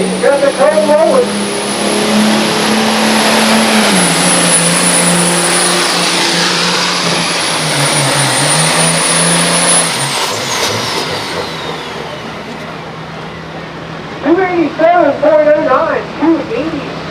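A pulling vehicle at a truck and tractor pull roars steadily at full throttle for about ten seconds, then fades as it winds down, with an announcer talking over the loud engine.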